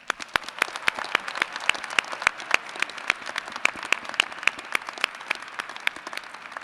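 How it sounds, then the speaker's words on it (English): Sustained applause from a large graduation commencement crowd at the University of Wisconsin–Madison honoring doctoral, law and medical degree candidates, with dense steady clapping and sharp individual claps standing out, continuous and fairly loud throughout. "please join me in another rousing round of applause in recognition of all our doctoral, law, and medical professional degree candidates"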